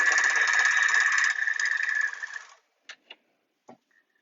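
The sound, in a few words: overlocker sewing through fabric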